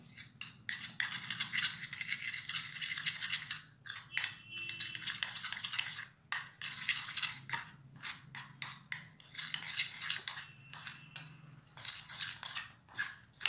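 A spoon clinks and scrapes in a small bowl as milk is stirred into a homemade facial hair removal paste, giving bursts of rapid metallic clatter with short pauses, close and fairly quiet.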